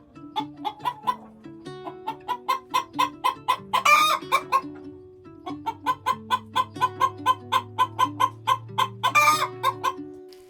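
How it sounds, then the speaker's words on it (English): A hen sings her egg song after laying, clucking in a steady repeated rhythm, building to louder squawking calls, with another bird's cries blending in close by. "you're going to hear my hen doing her egg song"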